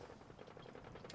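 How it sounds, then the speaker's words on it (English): Rapid bursts of gunfire in the video game Fallout 4, heard as a fairly faint, continuous rattle of automatic shots throughout, with no talk over it. "I hear gunfire."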